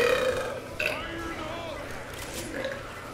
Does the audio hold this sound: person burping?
yes